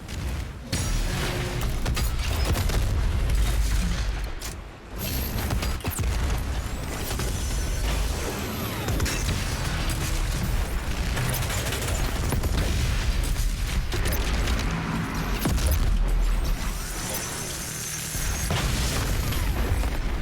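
Heavy, continuous barrage of explosions from grenades and weapon combos in DOOM Eternal, booming loud and dense for the whole stretch, with a brief dip near the start and clattering mechanical bursts layered throughout.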